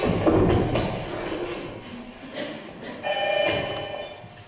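An indoor telephone rings in short bursts, a bright trilling bell repeating about three times with faint shuffling between rings, fairly close and without voices.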